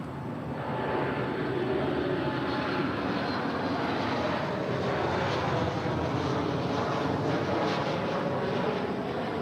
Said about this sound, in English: And here is WestJet 1100, 737 MAX 8, speaking of which.